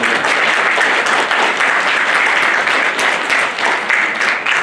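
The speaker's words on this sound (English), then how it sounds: "Round of applause for Kathy." An audience at a JROTC commissioning ceremony bursts into loud, steady applause that fills the room and holds for several seconds, with no voices heard over it.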